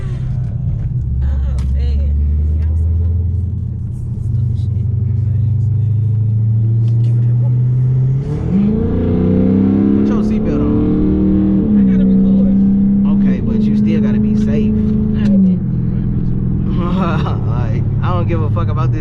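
Dodge 392 Hemi cars race, their engines rumbling low and steady, then revving up hard partway through into a louder, rising roar, with voices heard over the engine noise.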